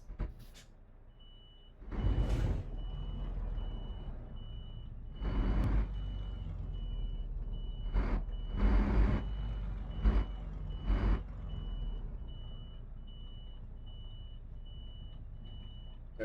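A truck reversing in Euro Truck Simulator 2 gives a steady series of loud backup beeps, repeating throughout at an even pace, with heavy engine and brake bursts at intervals underneath.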